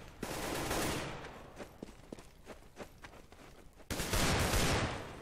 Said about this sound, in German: Boah, schöner Schuss von FZZ